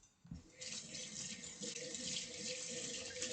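Kitchen tap turned on while washing a cooking pot, steady rushing stream of water into a sink after a brief click, close and even throughout.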